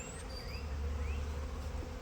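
A honey bee colony, a swarm newly settled into a hive, gives a steady close buzzing drone, with a few individual bees whining past near the hive entrance.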